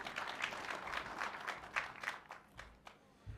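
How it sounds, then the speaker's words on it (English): A crowd at a travel expo applauding with dense, scattered clapping that thins out toward the end, heard from a moderate distance. "A round of applause again"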